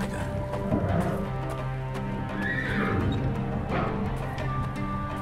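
Nervous horses neigh and whinny in the video game Geheimakte 3, with several drawn-out whinnies over steady hoof clip-clop and ambient game sound, fairly close and continuous.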